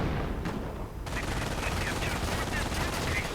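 Rapid gunfire from a World War II strategy video game rattles at an infantry section, a dense continuous burst of shots with a commentator's voice faintly under it.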